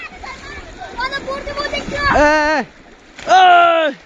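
Kids swimming in the Longai river in Karimganj, with one clear splash as someone dives under, heard among excited children's shouting and chanting voices close by.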